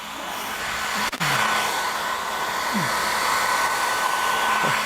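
A hair dryer blows steadily at close range while drying a dog during grooming, a constant airy whir with brief handling bumps.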